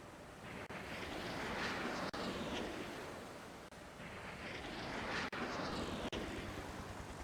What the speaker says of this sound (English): The ASW helicopters return to base.